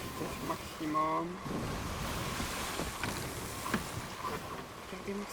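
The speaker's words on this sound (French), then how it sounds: "Regardez-moi ces vagues." Ocean waves and wind wash steadily in the pirate video game Sea of Thieves, a broad rushing surf bed with a brief tonal creak or call near the start and faint speech underneath.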